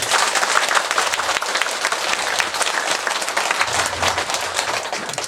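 Loud, sustained applause from a gathering of lay Buddhist women at a Diamond Sutra lecture at Bukdaeam temple, a thick, continuous roar of clapping from many hands, close and unbroken from start to finish.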